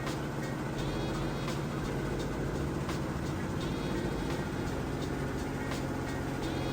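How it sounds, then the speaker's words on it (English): A Samsung HE front-load washer in its final high-speed spin, giving a steady, loud mechanical drone with a constant low hum and rhythmic whirring that continue without a break, with no voices. "the final spin cycle is even faster"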